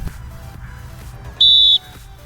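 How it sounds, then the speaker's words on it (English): A single sharp, loud referee whistle blast lasting about a third of a second during a soccer hand-signal demonstration, standing out clearly over a low background hum with no talk. "blow the whistle, and signal in the direction the team is attacking"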